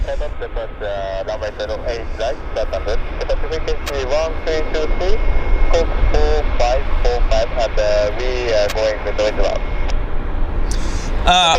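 A late-arriving airliner lands at Vancouver airport, its engine roar a steady drone under nearly continuous close talk from a man.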